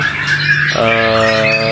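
A white-rumped shama, the murai batu songbird, gives a loud, close, harsh squawking call that changes partway through into a sustained, bright, buzzy tone, with no other sounds around it.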